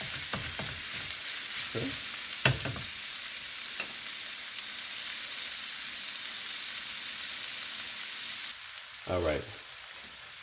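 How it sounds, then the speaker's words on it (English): Beef sizzles steadily in a pan for a Thai basil stir-fry, with scraping stirs now and then and a short spoken remark near the start. "Let's give our beef a little time to cook."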